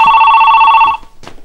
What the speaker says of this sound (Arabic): التليفون يا ساوسة.